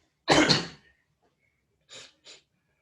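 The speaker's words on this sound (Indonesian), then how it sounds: "lagi batuk tuh" One loud, harsh cough from a lecturer in a quiet room, followed about a second later by two short, fainter coughs or throat clears.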